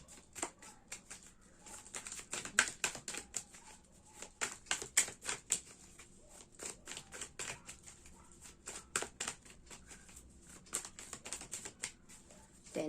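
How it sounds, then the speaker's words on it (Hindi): Tarot cards shuffled by hand for a reading, a quiet, close run of rapid papery flicks and riffles in uneven bursts, with no voices. "तो चलिए आपके लिए कार्ड्स शफल करते हैं।"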